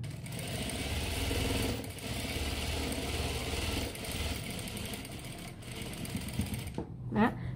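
Sewing machine running fast and steady while stitching an elastic waistband on homewear trousers, a close continuous whirring hum that stops near the end, followed by a brief faint voice.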